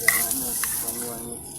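Eggs and chicken sizzling in a pan over a fire outdoors in the mountains, a steady light crackle with soft stirring scrapes, close and continuous.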